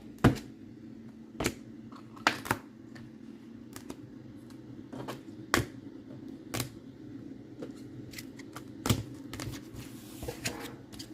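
SP Authentic hockey trading cards shuffled and slid across a table, giving scattered sharp clicks and soft scraping taps at irregular intervals, close up over a steady low hum.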